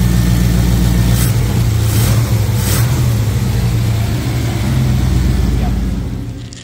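A Chevy OBS pickup truck engine runs loudly and close, holding a steady rumbling idle with a few brief revs early on before it gradually fades near the end.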